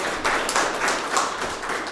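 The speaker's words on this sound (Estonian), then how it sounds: "Teeme siis teise katse aplaus teha" Applause from an audience at an Estonian nature-tourism panel event, a brief burst of clapping with scattered individual claps, fairly close and alone without talk.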